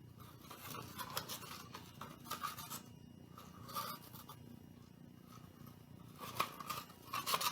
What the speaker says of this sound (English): Then you'll just cut off the excess.